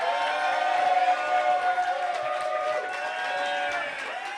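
A comedy-show audience claps and cheers for a contestant, steady dense applause with whoops and a tonal whistle riding on top, fading slightly toward the end.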